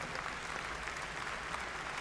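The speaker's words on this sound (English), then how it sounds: "About another big round of applause for Dr." Steady applause for award recipients at a university spring commencement ceremony, a broad even wash of many hands clapping in a large hall, sustained throughout.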